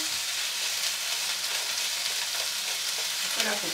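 Sausage frying in a pan while a pumpkin penne gratin is being prepared, a steady broadband sizzle running throughout with faint stirring clicks near the end.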